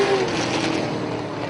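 Race cars roar off the green flag at Punta Gorda Speedway, a loud dense wall of engine noise close by, steady and unbroken through the brief moment with no voices.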